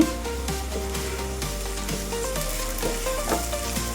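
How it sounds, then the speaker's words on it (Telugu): Sliced onions sizzle in hot oil in a pan for a stuffed eggplant curry, with a steady close crackle and occasional stirring scrapes, moderately loud with no voices. "ఉల్లిపాయ వేసుకుందాం. ఇవి బాగా బ్రౌన్గా ఫ్రై అవ్వాలండి."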